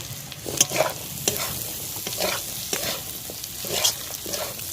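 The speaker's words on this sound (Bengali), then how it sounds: "আলু আর পেঁয়াজটাকে নাড়াচাড়া করে নিচ্ছি" Potatoes and onions stir-fried in a pan for chow mein, with a continuous close sizzle broken by repeated scraping strokes of a spatula at an uneven rhythm, and no voices.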